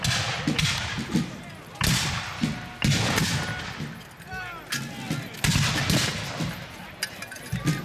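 Muskets fire across the field during a War of 1812 battle reenactment, with several sharp, loud reports at irregular intervals and a scattered crackle of shots between them, over outdoor background noise and a few distant voices.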